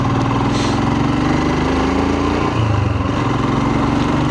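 A Royal Enfield Himalayan motorcycle engine drones steadily while riding, loud and continuous with a low, throbbing hum and no talking over it.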